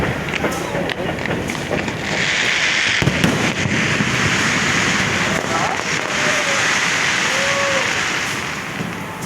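Fireworks burst over and over outdoors in the evening under a constant loud crackling wash, with several sharper bangs. Voices talk now and then in the background.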